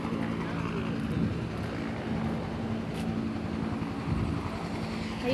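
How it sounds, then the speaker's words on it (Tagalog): A helicopter flies over a zoo park in Albay, giving a continuous low rotor drone with a steady tonal hum, heard outdoors from some distance. Voices are faintly present. "Ayan, oh, may helicopter."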